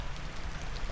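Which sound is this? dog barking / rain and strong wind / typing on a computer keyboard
rain and strong wind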